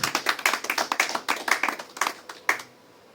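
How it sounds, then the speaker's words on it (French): Congregation in a church clapping loudly in a dense, uneven burst of many hands for about two and a half seconds, then stopping abruptly, leaving near silence. "Acclamez d'abord très fort pour la gloire du Seigneur"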